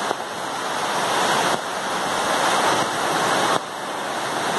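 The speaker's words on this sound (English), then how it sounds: "This one has got a waterfall next to it, which is quite nice." A waterfall beside a suspension bridge on the Torrent-Neuf walkway in Switzerland roars as a loud, constant rush of falling water, steady and close, with no voices.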